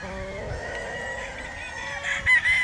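A three-year-old White Kelso gamefowl rooster crows on a game farm, with a faint layered background of other fowl and a louder, rising call near the end.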